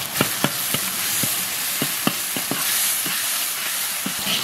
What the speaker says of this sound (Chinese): 油后下入蒜末、小米辣，用小火慢慢把蒜末、小米辣炒香